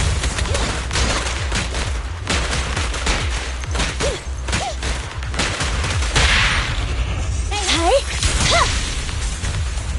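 Dense rapid gunfire from the action video game Zenless Zone Zero, with fast bursts, whooshing swipes and crashes in a loud, continuous combat mix, while voices call out over the shooting.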